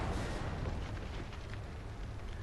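Panzerwerfer 42 rocket explosion in the War Thunder video game: a dense, sustained roaring blast with rumbling low end and crackling debris, loud and steady throughout without speech.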